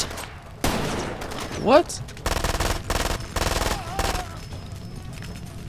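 Gunfire in the video game Far Cry 2, with several loud bursts of automatic fire separated by short pauses and a rising whine between them; someone speaks briefly.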